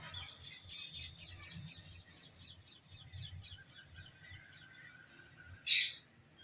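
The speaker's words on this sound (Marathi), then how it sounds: "ह्या पोपट खूपच ओरडत आहेत" Busy chirping and calling birds fill the background, with one loud, harsh parrot squawk standing out near the end, close by.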